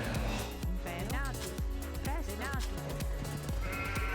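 Sheep bleat in the video game Age of Empires, with several short wavering bleats over game sounds while someone talks throughout.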